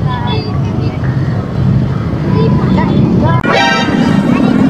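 A Yamaha RS150 motorcycle engine roars past up close at the Sinulog festival in Cebu City, loud and buzzing, with a brief horn-like tone and voices in the background.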